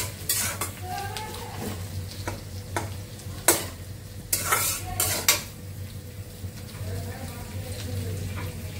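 Dried red chillies frying in oil in a pan, giving a low steady sizzle under loud metal clanks and scraping spoon strikes on the pan. A voice is faintly present.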